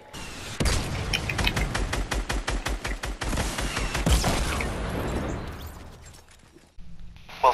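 Rapid weapon gunfire in the Fortnite video game, a fast string of loud, evenly spaced shots for about three seconds, then fading into mixed game noise and quieter bursts.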